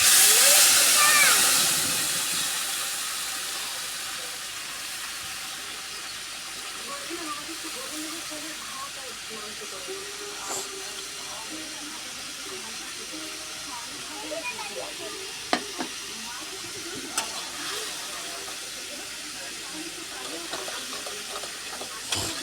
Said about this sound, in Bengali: তেল গরম হয়ে গেছে, কালো জিরে দিয়ে দিয়েছি তেলে। এবার বাটাটা ছেড়ে দেবো।